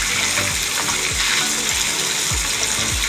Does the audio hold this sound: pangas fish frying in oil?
yes